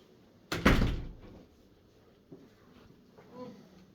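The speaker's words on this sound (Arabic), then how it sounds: "واقفلي الباب وراكي" A door is shut with a sharp, loud slam indoors, leaving a short ringing decay. Quieter bumps and faint movement noises follow.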